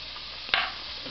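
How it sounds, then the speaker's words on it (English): Garlic and ham frying in oil for sofrito, a steady background sizzle with one brief burst as something hits the pan, no talking. "Once the oil is going, that you see that it's starting to cook, the ham, you're going to add the garlic."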